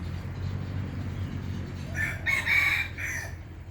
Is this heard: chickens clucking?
yes